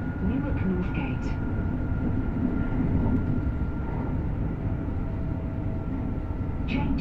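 Interior rumble of a Class 801 LNER Azuma (Hitachi AT300) train in motion on the King's Cross to Leeds line, a steady low rolling drone with faint chimes and brief higher sounds over it.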